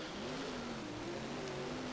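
A late model race car engine roaring at Eldora race track, a sustained steady drone with a wavering pitch as the car is pushed hard around the dirt oval, heard from a distance with no talking.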